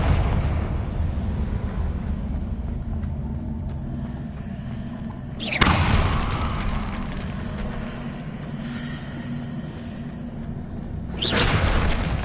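A Confringo blasting spell goes off twice in the Hogwarts Legacy video game, each a sudden loud burst that decays into a long rumbling wash, the two blasts about six seconds apart over a steady low ambient drone.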